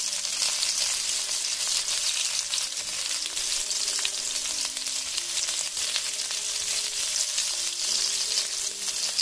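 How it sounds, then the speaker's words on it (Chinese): Bamboo shoots stir-frying in oil for a Shanghai-style braised pork belly dish, a continuous dense sizzle and crackle held at an even level throughout, close up with no talk. "先要把笋煸一下，让笋尖炒成微微发黄"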